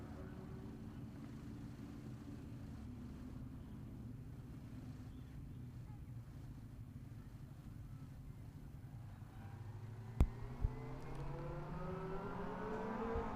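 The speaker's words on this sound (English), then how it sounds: "So the cars all coming through Park Ferme there." Racing cars driving slowly into parc fermé at a round of the ICCR championship: a steady low engine rumble with rising revs toward the end and a couple of sharp knocks, under faint distant background noise.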